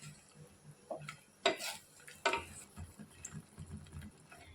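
A spoon stirs slurry into soya chilli vegetables in a pan, making soft scraping strokes and a few sharper clinks against the metal over a faint sizzle, fairly quiet and close, with no speech.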